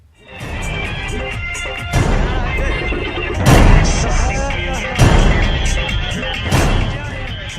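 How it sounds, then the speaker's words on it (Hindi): Gunfire at an orchestra dance event in Madhubani, Bihar: four or five loud, booming shots about every one and a half seconds, each cutting through a steady wash of crowd and music noise. "ऑर्केस्ट्रा के दौरान फायरिंग हुई और पुलिस को कुछ पता तक नहीं चला।"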